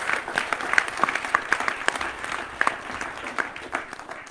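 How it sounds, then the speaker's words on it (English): An audience applauds panelists at a climate partnerships summit, with scattered individual claps standing out over a moderate, steady patter that holds for several seconds. "How about a round of applause and aloha for our panelists?"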